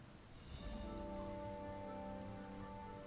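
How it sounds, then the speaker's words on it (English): Steady rain falls and patters on surfaces in the video game Kingdom Come Deliverance II, a continuous soft wash of drops with a faint low musical tone underneath and no voices. "Why is it always raining?"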